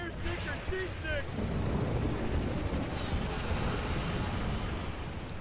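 A flying boat aircraft's engine in The Simpsons Game roars as a broad, steady rumble after a few brief tonal sounds at the start, with a voice talking over it.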